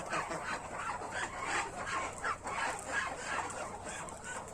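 Farm ducks kept inside a shed make a dense, continuous chorus of close quacking and clucking calls that overlap steadily throughout.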